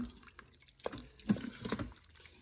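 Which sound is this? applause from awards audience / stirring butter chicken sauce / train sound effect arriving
stirring butter chicken sauce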